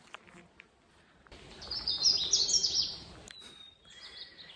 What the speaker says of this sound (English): And there is my Canada warbler.